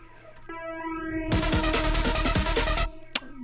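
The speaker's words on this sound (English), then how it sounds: "I have it set to flanger with a high feedback" An exaggerated flanger with high feedback sweeps over a synth and drum section in an electronic track, swelling into a loud, whooshing, metallic mid-section before cutting back to the sparser tones.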